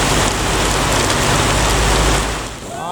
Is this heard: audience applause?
no